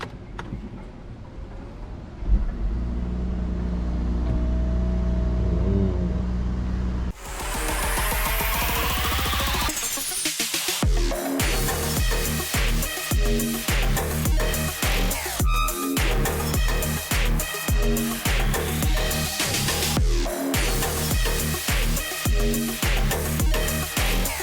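A BMW X5 xDrive 45e with a 3-liter turbo accelerating, heard from the cabin: a steady hum builds into a loud, rising engine drone with a rhythmic pulsing texture that continues to the end.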